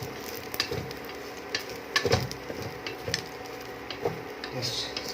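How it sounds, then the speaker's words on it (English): Mutton fat sizzling and popping in a pan during a dry fry, a steady crackle broken by sharp bursts and occasional stirring clinks, close and moderately loud. "You can just hear the fats are just bursting out."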